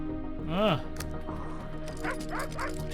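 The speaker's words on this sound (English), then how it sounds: "I don't think barking helps anything." Dog in the Mystery Trackers game giving a clear bark-like yelp, then softer yips and whimpering cries, faint and set against quiet background music.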